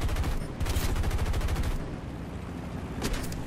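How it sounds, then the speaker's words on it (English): Rapid rattling bursts of turret gunfire in the War Thunder video game, loud and dense at first, then easing before a short final burst, with no speech over it. "And my turrets are lighting things up."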